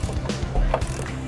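Ratchet tightening the fuel tank strap bolts during a fuel pump repair and tank replacement, a few short close clicking bursts and mechanical knocks against a low background hum.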